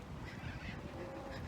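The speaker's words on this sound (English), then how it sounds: "But you can probably hear all the birds and the cars." Birds honk and call continuously outdoors near a creek and golf course, with a steady wash of distant traffic beneath them.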